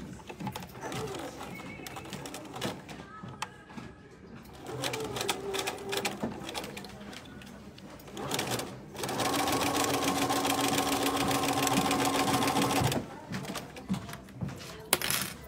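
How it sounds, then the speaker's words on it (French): A domestic sewing machine stitches a seam on a fabric pencil case, running in bursts with a steady rapid whir that grows loud and continuous midway, among handling clatter and pauses. "je pique sur ma première couture"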